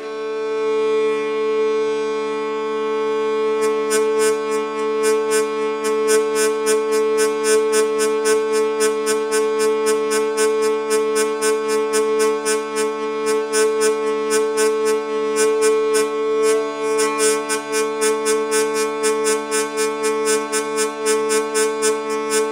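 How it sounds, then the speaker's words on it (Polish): A hurdy-gurdy plays a loud, sustained drone with a steady bright tone, overlaid by the fast rhythmic buzzing pulse of its trompette that continues throughout. "Ten trampet powoduje specjalny rytmiczny efekt podczas gry na lirze korbowej."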